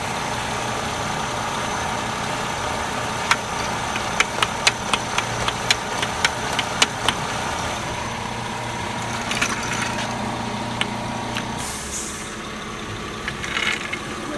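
A Mercedes CLK320 engine idles steadily after a motor mount repair, a low, even hum with a few sharp clicks and taps partway through, no talking.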